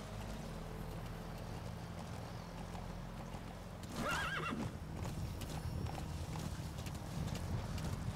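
Hoofbeats clatter along with a horse's whinny partway through, over a constant background rumble, in the video game Metal Gear Solid V: The Phantom Pain; no speech heard.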